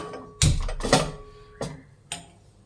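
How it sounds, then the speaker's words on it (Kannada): Four sharp clicks at uneven intervals from a gas stove igniter being snapped to light the stove, close and fairly loud against near silence. "ಈಗ ಸ್ಟವ್ ಹಚ್ಕೊಳ್ಳೋಣ"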